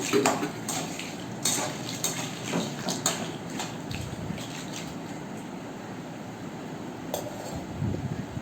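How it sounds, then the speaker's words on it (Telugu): Fried chillies, nalleru greens and lentils tipped into a pan, with a metal spoon clinking and scraping against the pan in repeated close strokes over a constant frying hiss. "ఈ మిర్చి, నల్లేరు, పప్పులు అన్నీ కలిపి వేయించుకున్నవన్నీ ఇట్లా వేసేస్తున్నాను"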